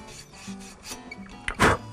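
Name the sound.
brushing the end of a copper pipe to shine it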